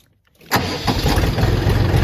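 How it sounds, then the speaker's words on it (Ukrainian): Silence, then the small engine of a Kentavr F-244 XU mini tractor cranks on the key and catches at once, settling into a loud, steady idle close by. "Заведу даний тракторець і покажу, як він речить."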